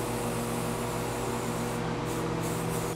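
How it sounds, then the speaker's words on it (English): An aerosol can sprays black paint onto metal desk legs, a continuous close hiss that holds steady throughout with a faint hum beneath. "I sprayed on one coat of primer and then three coats of paint."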